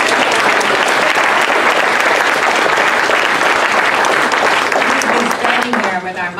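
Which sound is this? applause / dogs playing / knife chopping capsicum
applause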